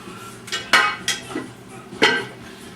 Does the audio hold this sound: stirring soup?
yes